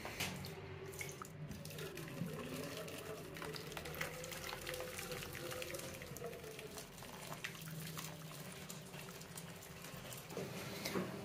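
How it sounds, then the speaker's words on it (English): Running water splashes steadily into a sink for several seconds as it is emptied and refilled with hot water, with clattering and the rush of a tap, fairly close. "let's go empty out this water and stick some new hot water in here."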